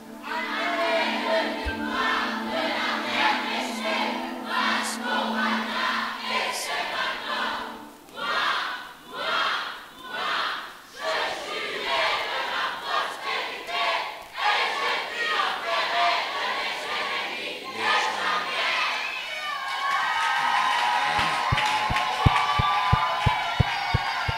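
A church congregation acclaiming and cheering together, a loud swelling crowd roar with rhythmic surges, followed near the end by a steady sharp beat.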